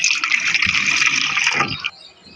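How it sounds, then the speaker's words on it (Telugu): Milk pours steadily into a pot on a stove in a continuous splashing stream for about two seconds, then stops abruptly. "స్టవ్ మీద గిన్నె పెట్టుకొని పాలు పోస్తున్నాం"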